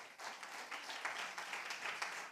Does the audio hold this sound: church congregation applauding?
yes